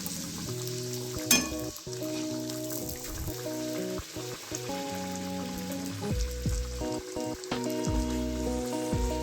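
Naan puri sizzles in hot oil as the dough is slipped in and pressed, a soft bubbling crackle running under prominent background music, with one sharper clatter early on.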